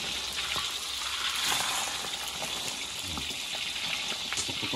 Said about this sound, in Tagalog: lagay natin habang di pa masyado mainit yung mantika